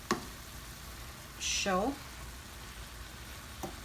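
Callaloo amaranth greens sizzle and fry in a pan with vegan butter, a steady low frying hiss while being stirred, with a brief spoken word partway through.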